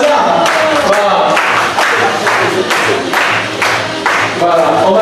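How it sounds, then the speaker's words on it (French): An audience claps steadily at a French conference, dense sustained applause filling the room, with a voice speaking over the clapping. "Continuez à applaudir pour elle"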